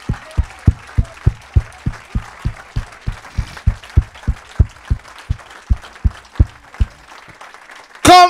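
A church congregation acclaims the Lord with steady, rhythmic clapping, beating in unison about three times per second over faint background sound and ending in a sudden loud burst.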